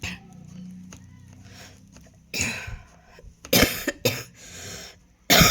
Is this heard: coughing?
yes